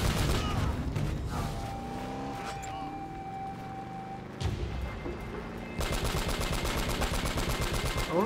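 Bursts of machine gun fire in Uncharted: Drake's Fortune, rapid rattling volleys that fade into a quieter stretch before a loud, sustained burst returns near the end.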